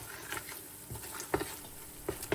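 Chopped onion sautéing in a pan with a dusting of sweet paprika, a steady close sizzle broken by intermittent scraping stirs and clacks of a utensil against the pan, no talking.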